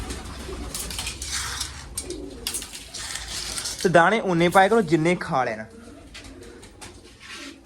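Pigeons in a coop make soft bird calls through the background, with a louder burst of throaty cooing midway; someone talks over them at close range.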